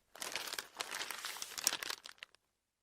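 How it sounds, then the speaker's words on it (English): Newspaper bundle unwrapped by hand, a close, busy run of paper crinkling and crumpling with a few sharper rustles, continuous for about two seconds before stopping into silence. "He felt a bundle of newspapers and pulled it out. He quickly unwrapped it."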